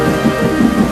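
Heavy rain pours down in a steady, loud, dense hiss with no voices, lasting about a second.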